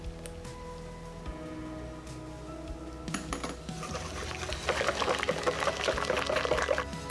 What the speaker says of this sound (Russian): Влить растопленное и охлажденное сливочное масло.